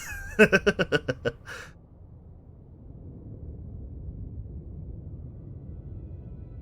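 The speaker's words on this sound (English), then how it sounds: "Your cat's name is Satan?" A cat meows in a quick run of about seven short, rhythmic calls near the start, then falls silent over a low steady background hum.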